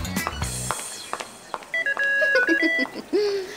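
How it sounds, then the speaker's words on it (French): An alarm built into a cartoon powder compact rings as a run of bright electronic beeps and warbling tones, preceded by clattering effects, in an animated scene. "On a intégré une alarme à nos poudriers en fait."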